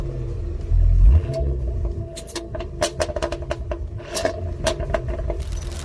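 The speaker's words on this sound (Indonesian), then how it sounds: "Saat saya tekan di sini, suara knalpot berubah total ke mode V." Land Rover exhaust switched into V mode, recorded close to the tailpipe: a deep idling rumble with a loud burst at first, then a string of sharp, crackling revs and pops.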